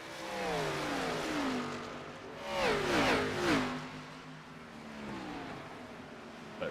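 Stock cars racing laps at Nashville in iRacing's Xfinity Series roar loudly, with repeated rising and falling engine pitch as cars sweep past in waves, and no voices.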